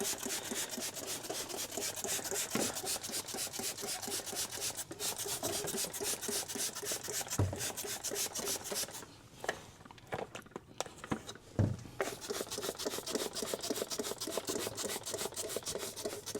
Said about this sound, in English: We're just gonna scrub all this.